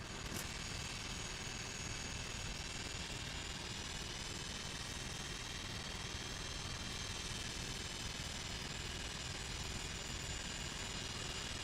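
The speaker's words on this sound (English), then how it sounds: "Let's listen to that engine again here." A simulated aircraft engine in Microsoft Flight Simulator drones with a steady, even roar and high whine, constant and unbroken with no talking over it.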